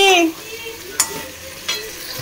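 Tomato paste with dried and fresh chillies sautéed in a pan, a soft steady sizzle broken by two sharp scraping stirs of a spoon against the pan, close and fairly loud with no voices.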